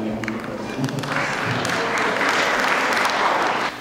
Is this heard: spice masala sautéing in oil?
no